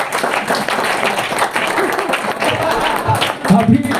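Crowd applause at a live public event, steady clapping from many hands running throughout, fairly loud, with voices rising over it near the end.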